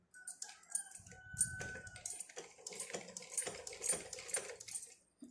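Tailoring sewing machine running after being oiled, a fast rattling mechanical clatter with light ticking and clicking that holds steady for several seconds, fairly close, with no talking.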